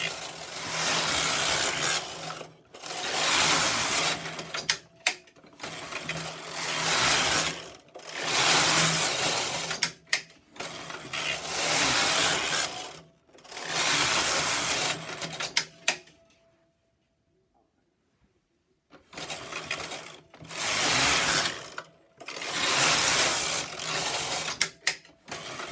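A double-bed knitting machine knitting jacquard with a birdseye back rattles and whooshes in repeated carriage passes of a second or two, each ending in a sharp clack, with one longer quiet gap partway through.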